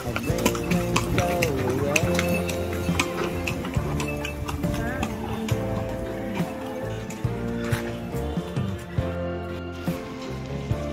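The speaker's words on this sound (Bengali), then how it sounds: "ঘোড়া গাড়ি চলছে।" Horse-drawn carriage at a resort in Bishnupur, with steady clip-clopping hooves under continuous talk and background music.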